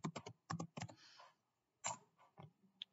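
Typing on a computer keyboard, quick bursts of close, crisp key clicks in short clusters with brief pauses between them, fairly quiet and without talking.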